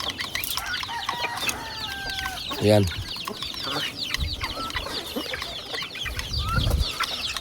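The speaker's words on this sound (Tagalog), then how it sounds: "itong mga alaga nating mga malalaki na manok" Chickens cluck and chatter in a busy farmyard, with scattered calls and brief rustling, while a person says a word briefly.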